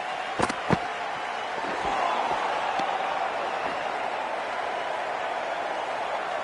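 Stadium crowd in a PS5 cricket video game, Punjab Kings vs Chennai Super Kings, a steady broad roar with a couple of sharp knocks early on, then a constant wash of noise that swells slightly.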